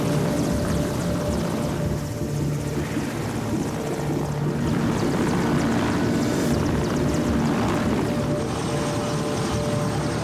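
UN supply flight aircraft heard as a continuous, loud propeller engine drone throughout, steady and fairly close, with no speech over it.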